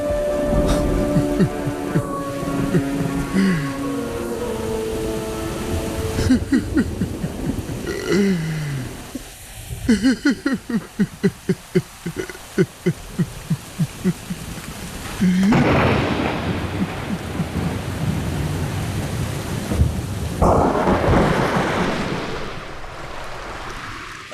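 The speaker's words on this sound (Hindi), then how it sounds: "उसकी दुआ से बारिश हो गई।" Heavy rain pours steadily while thunder rolls and cracks, with deep rumbles swelling and fading over a constant wash of falling water and no speech.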